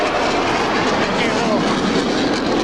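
A fighter jet roaring loudly and continuously overhead at an air show as it jinks through a maneuver, its broad engine rush filling the whole stretch, with a commentator talking over it.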